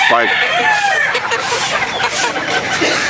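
Pet gray chickens about three months old give a few close clucking calls near the start, then settle into a busy, noisy backdrop with faint murmuring voices.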